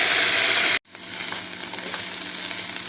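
Boiled cowpeas are stirred into browned shallots and dried red chillies in a frying pan, sizzling loudly and steadily; a brief cut breaks the sound before the frying carries on a little softer.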